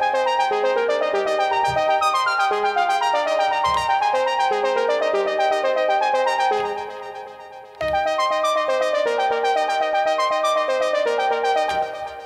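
Murmur, a high-register arpeggiator patch on an Elektron Digitone, cycles rapid bright synth notes in a continuous pattern, with soft low pulses beneath; it dips briefly near the middle before resuming at full level, no voices.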